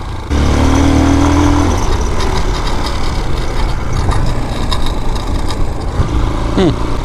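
A Vitacci Basha motorcycle engine runs while being ridden, a loud close drone with shifting pitch and a brief rising rev near the start, continuous throughout with faint wind noise.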